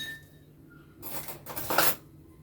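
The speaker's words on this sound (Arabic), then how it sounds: "فهاجي بحط لها زبيب وسوداني ونقلب الحاجات دي كلها مع بعض" A spoon stirs raisins and peanuts together in a dish for Egyptian om ali, giving two short bursts of clattering, scraping dish sounds, close and alone.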